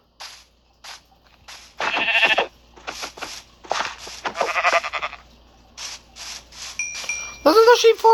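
Sheep bleat in the Minecraft video game, a series of short, separate bleats spaced irregularly. The bleats grow louder and stack up near the end.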